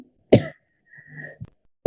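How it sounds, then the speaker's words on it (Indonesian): Two or three short, sharp coughs sound close and alone, separated by a brief pause with faint throat noise. "batuk saya"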